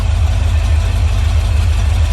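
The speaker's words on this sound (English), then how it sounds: "That's just idling though, which is perfect." Carbureted Rover 4.0 V8 running on an engine stand at a steady idle, a loud continuous low rumble with an even pulsing beat throughout and no voices.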